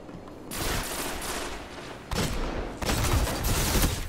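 Gunfire in the video game Destiny: dense, loud volleys of shots in three sustained bursts, with brief breaks between them and no talking.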